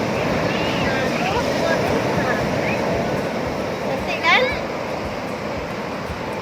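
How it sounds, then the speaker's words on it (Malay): Ocean waves breaking on a beach in West Aceh in the afternoon, the surf fairly big, a constant washing roar with wind rumble on the microphone, and a short spoken remark midway. "Ini petang ni nampaknya ombak dia besar sikit lah."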